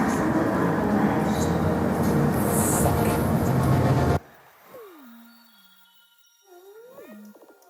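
A train at a London Underground platform at Bond Street in the interactive film game Late Shift: a loud, dense roar for about four seconds that cuts off abruptly, followed by quieter sliding tones.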